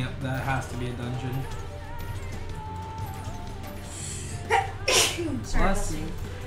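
A person gives a sharp sneeze during a chat while playing an online fantasy role-playing game, with a voice talking quietly before it and a second burst following.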